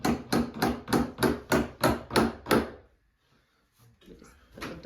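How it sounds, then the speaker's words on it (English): Around eight loud, evenly spaced knocks or bangs sound close by as a door is fitted back onto its frame, followed by a pause and a few faint handling clatters. "Put the door back on."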